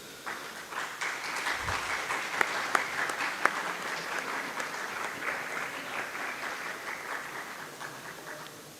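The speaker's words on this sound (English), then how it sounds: "please give a big round of applause for both the speakers." A lecture audience of faculty and colleagues at IIT Kanpur applauds the speakers in a steady, full round of clapping that holds for several seconds and fades slightly at the end.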